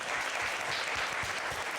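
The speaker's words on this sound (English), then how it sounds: "another round of applause for all of our competitors tonight" Dense audience applause for competitors at an evening pitch contest, steady and loud throughout with no speech over it.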